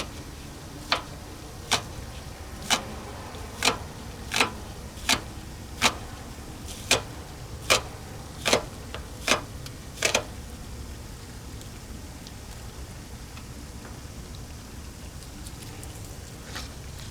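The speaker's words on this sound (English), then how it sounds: "I'm just chopping up my onions." Onions being chopped with a knife on a board for a homemade crock pot potato soup: about a dozen crisp, evenly spaced taps that stop after roughly ten seconds, over a steady background hiss.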